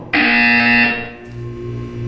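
A loud, sustained electronic buzzer from the video game Portal 2 sounds abruptly for about a second, then fades into a lower lingering hum.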